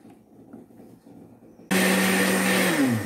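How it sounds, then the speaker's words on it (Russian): After a quiet stretch of faint hum, a blender blending a breakfast shake suddenly switches on and roars loudly and steadily, its motor pitch shifting slightly. "Выключаю блендер."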